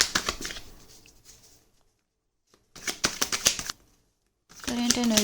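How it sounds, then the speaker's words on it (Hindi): Tarot cards are shuffled in short, crisp riffling bursts, with silent gaps between them. A faint voice tone comes in at the very end. "शफल्स करते हैं, then I will take out cards."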